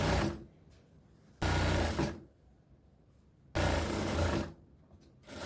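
A sewing machine stitches a fabric piece onto a churidar top in two loud, even bursts of rapid running, each separated by quiet pauses.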